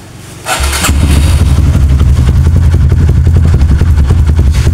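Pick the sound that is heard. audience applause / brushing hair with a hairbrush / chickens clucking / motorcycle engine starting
motorcycle engine starting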